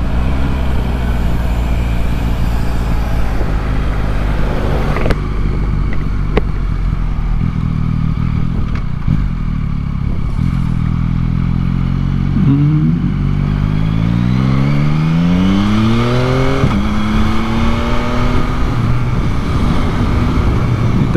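Stock exhaust of a Yamaha MT-09 naked motorcycle while riding on a road, a steady engine drone with rising and falling revs as it shifts through gears, close and loud with wind noise throughout.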